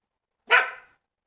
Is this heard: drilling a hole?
no